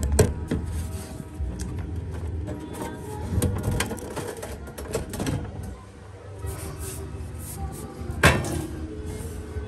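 The casing of a Technics V8 amplifier is opened, with close metallic scrapes, rattles and clunks of the cover being handled, including a sharper knock near the end.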